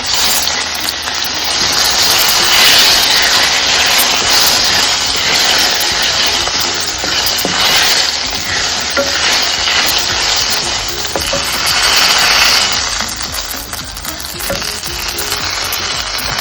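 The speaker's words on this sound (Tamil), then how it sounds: "பாருங்கள், எண்ணெயில் போட்டாச்சு. இது நல்லா மிளகும் சீரகமும் நல்லா பொரியட்டும்." Black pepper and cumin crackle and sizzle in hot oil in a continuous, fairly loud hiss with small pops throughout, no voices over it.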